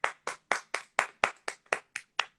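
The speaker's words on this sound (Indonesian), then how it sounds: "Wow, tepuk tangan." Hand clapping in an even, steady rhythm, about ten crisp, separate claps close by with silence between them and no voices.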